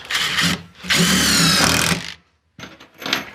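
An impact driver sinks screws into a cheap I-beam sawhorse in loud, close rattling bursts, with two long runs, a brief silence, then shorter final bursts.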